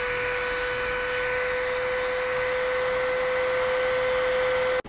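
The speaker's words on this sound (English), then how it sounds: "Drill it from the inside." A steady high-pitched electric drill whine runs continuously at close range while boring through a thick seashell, then cuts off abruptly at the end as the battery dies.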